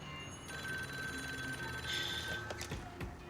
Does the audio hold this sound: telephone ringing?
yes